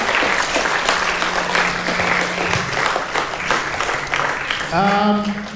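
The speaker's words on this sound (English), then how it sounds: "Can we just have a round of applause for everyone who participated in all of our houses?" A school chapel congregation applauds participants from all the houses, a steady wash of clapping throughout, with a low hum and brief tonal sounds near the end.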